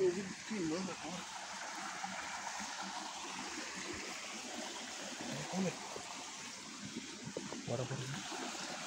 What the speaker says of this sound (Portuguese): o riacho que ela tá falando